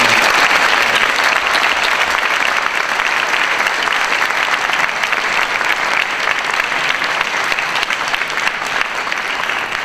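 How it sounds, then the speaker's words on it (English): Loud, sustained applause from a school assembly audience for student performers, including dancers, at a Lunar New Year event; thick continuous clapping from many hands with no break throughout. "So shall we give all of our performers an incredible round of applause?"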